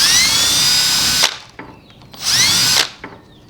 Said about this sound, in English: you want to go ahead and countersink them